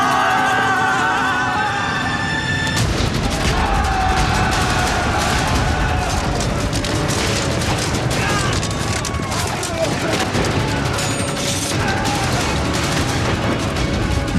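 Battle scene from an Argentine historical drama with dense gunfire and artillery shots, loud and continuous throughout, layered with shouting voices, music and sustained rumbling booms.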